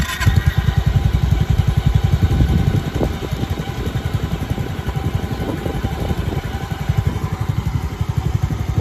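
A Honda Mio i 125 scooter fitted with an MT8 aftermarket exhaust idles steadily, its low, throbbing pulses loud and close, with no throttle blips and no talking.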